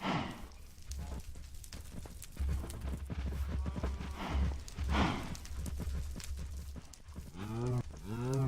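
Cows in Minecraft's Agrarian Skies modpack moo several times over a steady game ambience with clopping footsteps, the last calls loudest and clearest.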